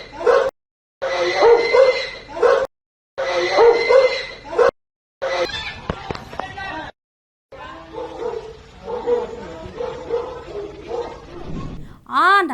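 A pit bull dog barks and yelps in short loud bursts with brief silent gaps, followed by a stretch of busier mixed sound and a few whining cries near the end.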